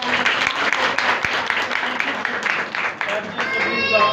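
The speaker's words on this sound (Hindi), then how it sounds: "सब जोरदार ताली बजाएं।" A church congregation claps loudly and continuously for the full stretch, with a few sharper individual claps standing out and faint voices mixed into the applause.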